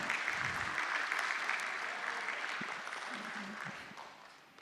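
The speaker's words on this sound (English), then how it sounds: "A nice round of applause, ladies and gentlemen." Faint applause at a stock exchange listing ceremony for Fino Payments Bank, steady clapping from a small gathering that slowly tapers off, with murmured voices underneath.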